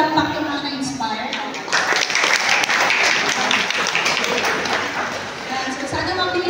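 Audience applause at an animation seminar on IP rights, a dense steady clapping from a room full of people that carries on for several seconds while voices talk underneath.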